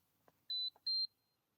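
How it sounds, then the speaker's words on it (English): A red light therapy device for a dog gives two short, faint, high electronic beeps in quick succession at the start of a dose, clean against a quiet room. "So it's tiny little beep at the start and the end of the dose."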